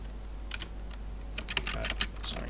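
Computer keyboard keys tapped in quick irregular bursts while code is entered for a Unity 5 transport game, light close clicks over a low steady hum, no talking.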